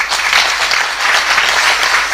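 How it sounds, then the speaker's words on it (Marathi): Steady, dense applause from an audience at a devotional kirtan performance, loud and continuous throughout with no talk over it. "त्यामुळे टाळ्या वाजवायच्या."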